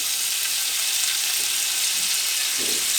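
Pork chops coated in olive oil, butter, salt and pepper sizzle steadily on a hot grill, a constant close, loud frying hiss with faint low crackles and no talking.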